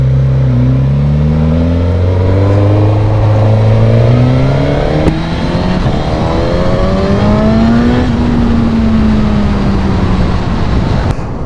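A 2021 Suzuki GSX-S 1000 motorcycle exhaust heard up close and loud, engine pulling up through rising revs with a strong raspy drone, a brief shift, then climbing again before settling.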